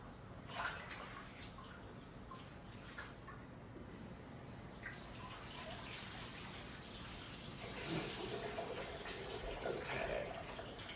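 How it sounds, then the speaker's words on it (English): Tap water runs steadily over hands being washed in a kitchen, a soft continuous splashing gush that swells slightly toward the end, faint and alone without talk. "Wash my hands."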